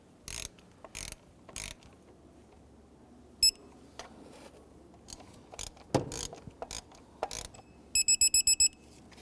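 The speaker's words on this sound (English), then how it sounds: "we can go ahead and torque these down. We can torque these down to 9 foot-pounds" A torque wrench tightening thermostat housing bolts on a 2011-2023 Dodge Charger 3.6L V6 gives sparse, sharp clicks that ring close by. A quick burst of rapid clicks comes near the end, with no talk.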